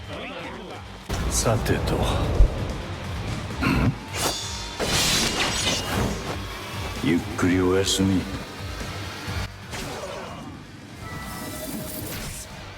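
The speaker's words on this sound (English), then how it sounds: "I will go ahead and just play his Soul Bomb animation" Shunsui's Soul Bomb attack animation in the mobile game Bleach Brave Souls plays out with crashing, shattering impacts and swirling effects under dramatic voiced shouts.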